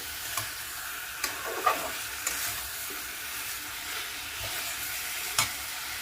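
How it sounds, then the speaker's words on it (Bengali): Cucumber pieces being stirred with spice paste in a hot pan, a steady sizzle broken by scattered scrapes and taps of the spatula. "শশার টুকরোগুলোর সঙ্গে এই মশলাটা খুব সুন্দরভাবে মাখাতে হবে।"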